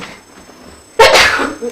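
A single loud sneeze bursts out close by during a school board meeting, following a quiet room murmur.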